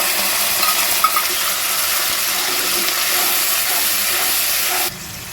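Whisked sour yogurt hits a hot frying pan of spices, setting off a loud, steady sizzling hiss with a few small clinks that cuts off sharply near the end.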